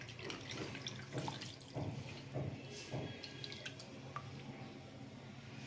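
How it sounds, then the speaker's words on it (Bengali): Squeezed coconut milk is poured from hand-pressed grated coconut while preparing prawn malai curry, with soft drips and trickles of liquid falling steadily into a bowl, faint and close with no talk. "দুধটা ঢেলে নিচ্ছি।"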